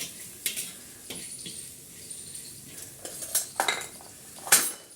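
Spice masala with kitchen king, garam masala and coriander being roasted in a pan on a wood-fired chulha, with intermittent metal spoon scrapes and clinks against the pan over a faint background hiss, no talk.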